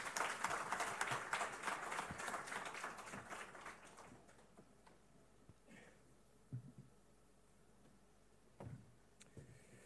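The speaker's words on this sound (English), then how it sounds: "One more round of applause, please" Conference audience applause at a trade forum, a dense crowd clapping loudly at first, then thinning over several seconds into scattered claps and a few isolated knocks, with no talk.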